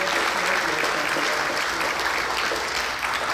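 An audience at a religious gathering breaks into loud, dense applause, a continuous roar of many hands clapping that holds steady throughout.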